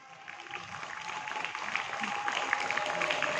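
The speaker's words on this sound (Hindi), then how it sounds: "उनका उत्साह वर्धन अपने तालियों से करें तालियों में कंजूसी ना करें" Audience clapping at a school Independence Day celebration, a steady dense patter of many hands that swells gradually and holds without a break, with no voices heard over it.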